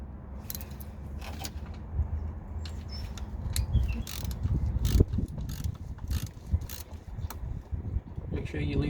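A ratchet turns an E12 socket on a bolt in the engine bay of a 2012 Vauxhall Corsa D 1.2, producing close, irregular bursts of clicking and metallic ticks.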